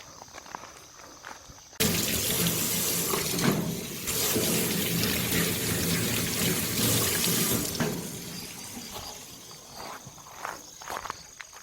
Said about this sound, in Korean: 개수대 뜨거운 물 나오나?